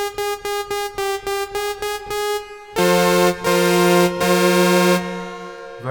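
A synthesizer oscillator in Vital with randomized fine tune: a rapid string of bright, buzzy detuned notes, then longer held tones with shifting pitch, loud and up close with no talking.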